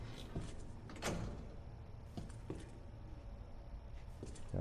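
A door opening in the video game Resident Evil 2: low rumbling ambience with a few muffled thuds and knocks, moderately quiet, with no speech.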